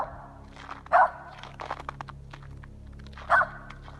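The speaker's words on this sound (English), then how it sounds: "the family dog suddenly bolts across the yard, barking wildly" A family dog barks in a backyard near trees, two sharp, fairly loud barks spaced a few seconds apart over quiet background rustling.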